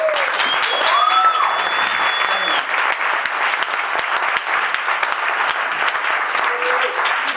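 A comedy club audience at One Longfellow Square claps loudly and steadily, close and full, while a few voices whoop over the applause early on.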